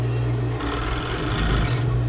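A sewing machine stitching fabric runs steadily with a fast mechanical whirring chatter, close and continuous with no talking.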